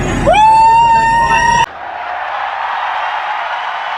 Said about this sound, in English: What a crowd, what a mob, what a show!